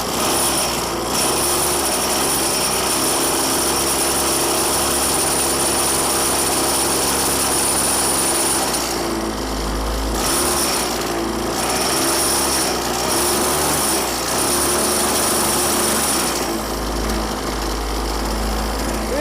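A jugaad clutch fitted to an engine on a motorized bicycle runs steadily for the whole stretch, a loud, close, buzzing small-engine drone with slight rises and dips as the throttle changes.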